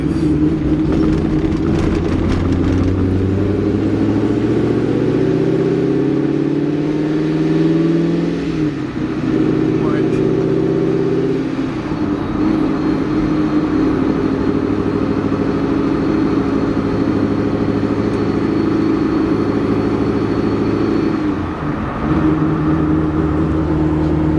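A supercharged Chevrolet Corvette engine runs loud and close on its first drive, with steady harmonic tones that rise through acceleration and fall back between pulls, with no talk over it.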